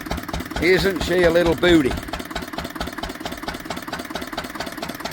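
An old Ruston Hornsby diesel engine idles steadily after a cold start, a low rhythmic chugging throughout, while someone talks briefly over it near the start.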